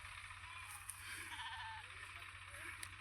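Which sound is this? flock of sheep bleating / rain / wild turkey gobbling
flock of sheep bleating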